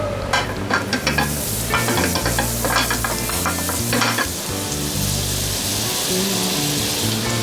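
Butter melting in olive oil in a pan, a loud close sizzle with crackling pops and spoon or spatula scraping, while a steady low background hum runs beneath.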